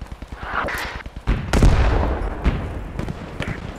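Gunfire rattles in the World War II shooter Post Scriptum during a KGr. Kempf event, with rapid loud volleys and heavy booming shots rolling into one another.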